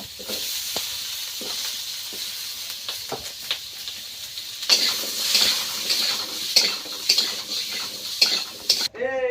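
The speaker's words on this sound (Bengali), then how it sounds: "এবার ওই অল্প একটু তেলে আলুটা কষাই করে নেব, আলু আর টমেটো" Potato and tomato fry in a little oil in a pan over a wood fire, a steady sizzle with stirring scrapes and clinks of a utensil that grow louder and busier partway through, close by and alone without talk.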